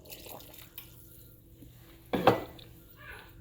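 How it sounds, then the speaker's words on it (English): Water is poured into a pot of meatball soup with rice, giving a short, close splash in an otherwise quiet kitchen, with a few faint clinks before it. "I'm gonna add the rest of this water."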